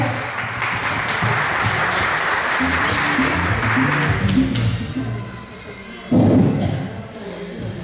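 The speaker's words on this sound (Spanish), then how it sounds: "Fuertes palmas para que pueda empezar con su ponencia" An audience at a seminar session claps loudly and continuously for several seconds before the applause thins out, followed by a short sharp burst and a fading patter.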